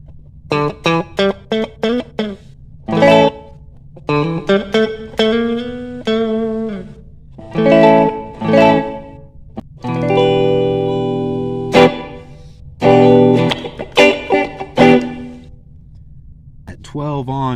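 A guitar plays through a 99 DSP reverb pedal. Short phrases of plucked notes and strummed chords come in bursts, each with a ringing, effected tail and brief gaps between them.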